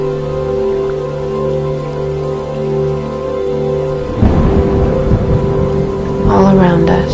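A thunderstorm with steady heavy rain and a loud rumbling thunder strike rolling in partway through, then a sharper crack near the end, with no voices.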